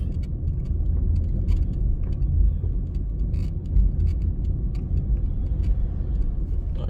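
Car driving slowly through a residential neighborhood in Kings House, Kingston, Jamaica, a steady low engine and road rumble from inside the vehicle with faint rattles, no talking.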